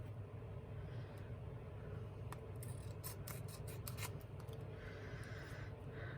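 Scissors trimming close by, a cluster of quick crisp snips and rubbing in the middle of the clip over a steady low background hum, with no talking.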